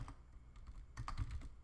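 Close fingers typing on a computer keyboard, a quick irregular run of key clicks that grows busier toward the end, with no voices.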